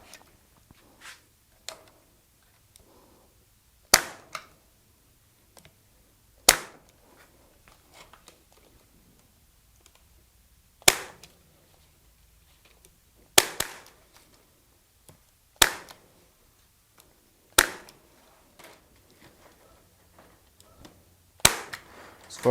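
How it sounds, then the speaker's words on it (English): A manual staple gun fires staples into a DIY compost bin, sharp isolated snaps spaced a few seconds apart, with quiet handling noise between shots. "I notice with this staple gun, if it isn't exactly flat and parallel, it just doesn't drive them in very well."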